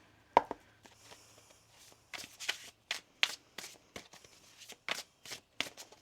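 Oracle cards are shuffled by hand for a tarot reading, a series of short, crisp riffling bursts in an irregular rhythm, close and fairly quiet, with no talking.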